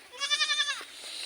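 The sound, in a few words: goat bleating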